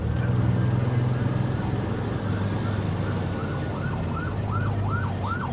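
Ambulance siren wailing in rising and falling sweeps as traffic backs up at a checkpoint in Thailand, growing clearer toward the end over steady engine rumble and road noise from a truck cab.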